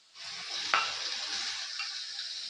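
Ground turmeric, cumin, hing, salt, chili paste, sugar and ginger paste fry in a little oil in a pan for a cabbage curry, giving a steady, close, bright sizzle with one brief sharper crackle early on. No one speaks.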